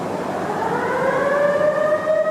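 Warning siren wailing steadily in a steel mill while a ladle of hot steel is moved, a sustained rising tone over a low industrial rumble, with no talk.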